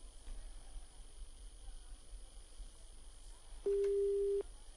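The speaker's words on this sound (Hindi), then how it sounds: "बार बार फोन कट जा रहा है हमारा।" A telephone busy tone sounds after a dropped phone call: one steady electronic beep of just under a second, heard alone near the end over a constant background hiss.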